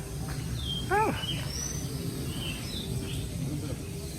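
Birds call in an Asian bird aviary at Disney's Animal Kingdom, with a rising series of chirps near the start and scattered whistles over steady background hubbub.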